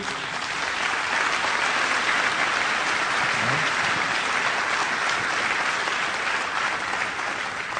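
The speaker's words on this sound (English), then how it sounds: "And we have got to applaud people like David." Rally crowd applauding at a Bernie Sanders event in Sumter, South Carolina, steady dense clapping that holds at a loud level throughout with no speech over it.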